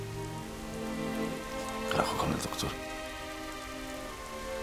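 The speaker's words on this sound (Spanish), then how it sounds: "Llovía mares, mi sargento." Heavy rain pours down in a film scene, a dense, steady hiss of drops on surfaces that runs throughout, with someone speaking over it briefly.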